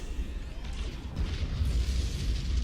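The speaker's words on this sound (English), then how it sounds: "Alright, hear an explosion." A space-battle explosion in Battlefleet Gothic Armada rolls out as a low, sustained rumbling boom, steady and heavy across the whole stretch with no voices over it.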